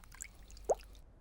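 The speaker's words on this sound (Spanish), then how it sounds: "En la ducha, George comparte la bañera con el señor dinosaurio." A single water drip in a cartoon bath where a small pig shares the tub with a toy dinosaur, one soft close plop with a faint background hiss.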